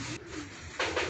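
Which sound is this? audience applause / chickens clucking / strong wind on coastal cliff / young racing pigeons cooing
young racing pigeons cooing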